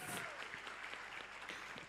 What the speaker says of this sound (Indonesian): Boleh tepuk tangan dulu untuk keduanya?